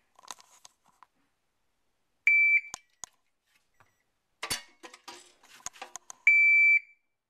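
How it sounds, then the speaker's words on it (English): A shot timer gives two sharp, sustained electronic beeps about four seconds apart. Between them come quick clicks and clunks from handling a biometric pistol safe. "Got my shot timer."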